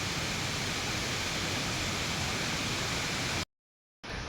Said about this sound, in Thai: ได้ยินเสียงน้ำตกตาดแล้วก็เสียงนกห้องอันนี้เป็นบรรยากาศสดๆเลยพี่น้องเด้อ